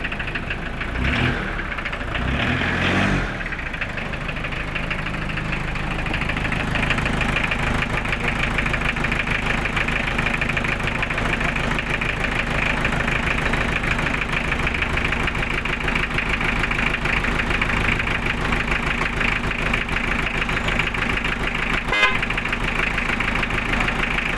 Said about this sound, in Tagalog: Kumusta yung tunog ng makina.